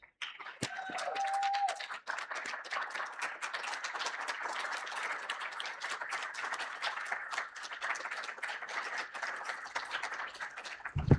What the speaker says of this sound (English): So let's do a round of applause for Barrett.